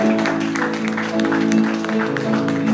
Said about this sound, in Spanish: Denle ese fuerte aplauso a Jesús